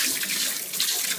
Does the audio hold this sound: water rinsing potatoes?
yes